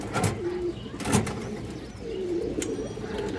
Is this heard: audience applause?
no